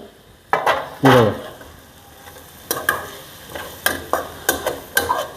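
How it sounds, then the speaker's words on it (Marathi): Chopped coriander stirred into onion chutney in a pan, with soft scraping and clinking strokes of a spoon against the pan over a low sizzle, in irregular bursts close by. "कोथंबीर टाकूया आता आपण आणि हलवून घेऊ थोडंसं"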